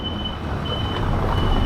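Steady Florence city street traffic rumble with engines and road noise, and a thin high beeping tone running through it, like a reversing vehicle nearby.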